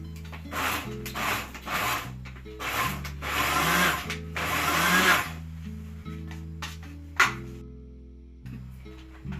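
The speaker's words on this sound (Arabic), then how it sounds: "نفرم ونعدل، نفرم تاني" Hot chili peppers minced for harissa make close, repeated rough scraping and chopping bursts in uneven runs, with a low steady hum underneath and brief pauses toward the end.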